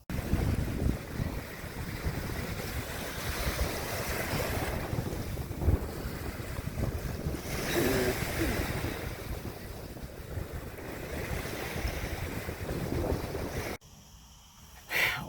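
Steady wind roar and rolling surf on Dowses Beach, a broad continuous wash with microphone buffeting, cutting out abruptly near the end before resuming.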